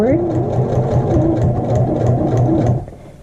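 A sewing machine runs steadily for close-up stitching on a lapped zipper, with a short back stitch and a forward run, its motor hum continuous and loud before stopping abruptly near the end, with no talk over it.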